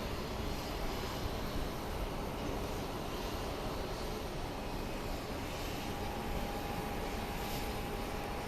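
Delta Airlines airliner lining up at Phoenix Sky Harbor airport, a faint, steady jet engine hum and broadband rumble that carries on evenly, distant and without voices.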